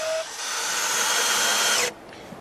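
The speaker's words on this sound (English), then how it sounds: "I'm going to use 3-inch screws to fasten it to the top of the log." A cordless drill or driver whines steadily for about two seconds while sinking a 3-inch screw through a pressure-treated plank into a log, then stops abruptly; loud and close, with no talking.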